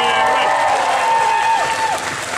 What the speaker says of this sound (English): Round of applause for Jared for putting this all together